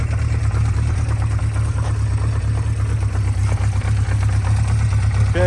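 A Honda CB500Four modern-retro motorcycle engine idles steadily, a low, even throb held throughout at close range.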